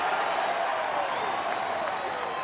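A crowd of over 22,000 baseball fans at a chilly afternoon Tigers game in Detroit roars and applauds as it rises to its feet, a dense, sustained wash of cheering with no pauses.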